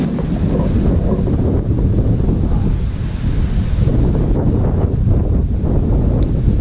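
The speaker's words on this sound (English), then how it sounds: "Where's this wind coming from?" Strong wind buffets the microphone beside a river, a continuous loud roar and rumble with no pauses and no voices.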